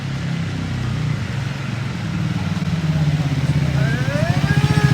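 A motorcycle engine runs steadily on a test drive, with a mid-pitched rumble that grows slightly louder and more pulsing toward the end, close and unobscured by voices.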